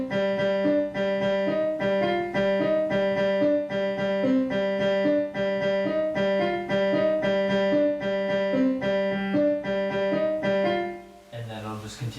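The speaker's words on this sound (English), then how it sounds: "you're going to have to add some swing to your notes" Piano plays the Shin Gojira theme with a swung rhythm, the first notes of each group held slightly longer, a steady close run of repeated notes that ends in a brief noisy shuffle.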